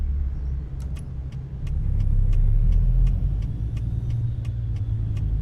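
Engine of a Peterbilt 377 truck in American Truck Simulator runs with a steady deep rumble that swells slightly as it drives, with faint regular ticking clicks on top.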